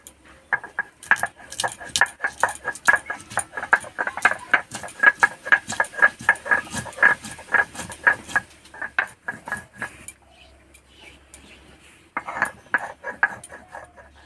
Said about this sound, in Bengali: এবার গরম মশলা বেটে নেব।